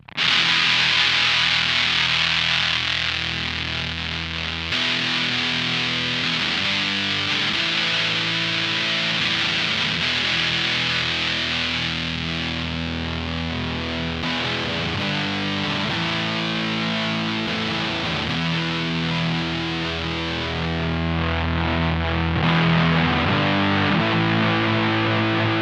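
Electric guitar on the bridge pickup driven through a RonSound '75 Hairpie Classic fuzz pedal, playing thick, saturated chords and notes that ring out loud and continuous, with the tone control rolled back toward a darker, doomy sound.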